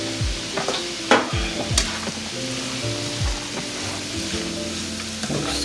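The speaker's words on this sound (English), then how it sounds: "Going to saute" Food sautéing in a pan during holiday dinner cooking, a soft continuous sizzle broken by a few sharp utensil scrapes and taps, close but fairly quiet, with no voices.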